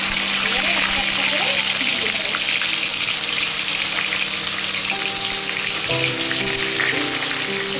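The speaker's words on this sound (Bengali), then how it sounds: "গ্যাস কমিয়ে একটা একটা করে ভেজে নেব।" Hilsa fish frying one piece at a time in hot mustard oil on a lowered gas flame, a loud, dense, steady sizzle close by with faint bubbling and a low hum underneath, no voices.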